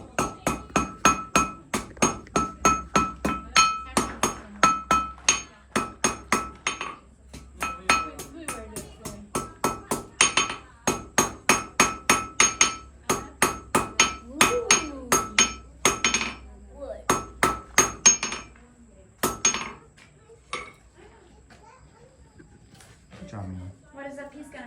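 Blacksmith hammering steel on an anvil for forge welding in a shop, rapid ringing metallic strikes in rhythmic bursts with brief pauses, close and loud, fading to a few scattered taps.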